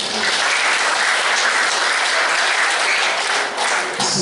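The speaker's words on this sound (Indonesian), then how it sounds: "Tepuk tangan." A crowd at a political gathering for a regent candidate at the Golkar party office in Jember claps steadily, a dense, loud, continuous wash of applause that holds for the whole stretch without a break.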